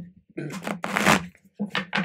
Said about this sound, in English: It's a little bit thick and long, so I have to take care to give it a good shuffle